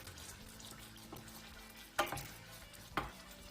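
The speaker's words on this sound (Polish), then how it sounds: "Czekamy, aż nam się masło rozpuści. O, już je słychać i czuć." Soft, steady sizzle of butter melting in a hot pan, with two sharp clinks of a utensil against the pan partway through.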